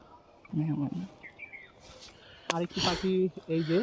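Freshly released rescued wild birds give a few short chirps and tweets outdoors while people talk nearby, the calls faint and brief between the voices.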